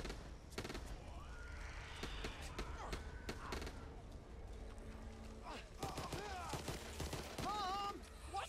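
Video game gunfire crackles in repeated sharp shots and short bursts, some close and some farther off, mixed with other in-game effects while people talk over it.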